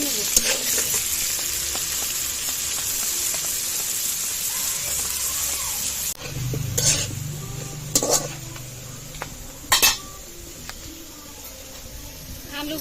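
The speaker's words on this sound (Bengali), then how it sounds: "আলুটা ভালো করে ভেজে নেব" Potatoes fry with salt and turmeric in a pan, giving a steady close hiss of sizzling oil, with a few louder clanks and scrapes of stirring in the later part.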